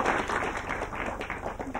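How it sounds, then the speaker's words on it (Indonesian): Brief burst of audience applause for a prize winner on stage at a comedy event, many hands clapping densely and evenly, close and sustained for the whole moment. "Tepuk tangan buat Pak Manca ini."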